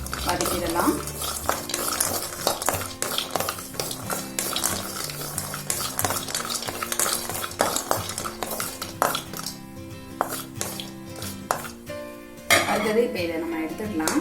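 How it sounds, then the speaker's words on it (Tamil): Cardamom and other ingredients being sautéed in a pan, with a spoon repeatedly scraping and clinking against the metal over a light sizzle, a busy continuous stirring close by that ends in a louder clatter. "மூணும் சேர்த்து நல்லா வதக்கிடலாம்"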